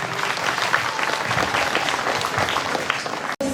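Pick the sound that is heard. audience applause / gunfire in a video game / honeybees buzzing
audience applause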